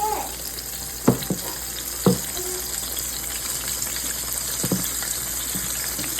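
Pork chops fry two at a time in hot grease in a big skillet, a continuous bright sizzle with a few sharp pops and clatters as they are moved.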